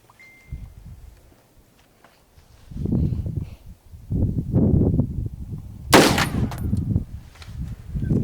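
A .308 rifle fired at steel brake plates outdoors: one loud, sharp crack stands out midway, set among repeated low rumbling blasts and wind noise.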